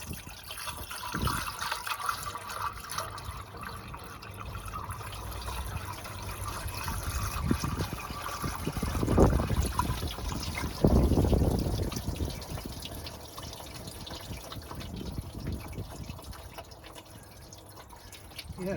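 Water drips and trickles out of a classic car engine being flushed, faint and close, with a couple of brief louder gushes midway over a quiet background.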